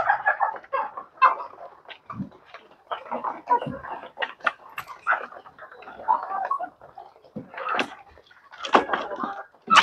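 Chickens clucking and calling close by in scattered, uneven bursts, with intermittent people talking nearby.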